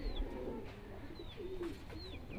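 Madrasi pigeons at a Delhi sale coo and call in a soft continuous murmur, with thin high whistling notes rising above it now and then.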